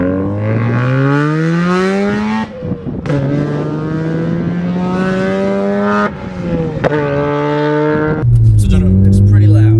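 A 2003 Mazda RX-8 rotary engine heard from inside the cabin while driving, loud and droning, with smooth rising pitch as it revs through the gears and a brief shift break between pulls.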